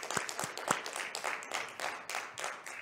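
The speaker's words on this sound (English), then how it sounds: "Round of applause for those funders." A scattered round of clapping for arts funders comes from a small audience at a live show, fairly faint and uneven, individual claps distinct and trailing in irregular bursts.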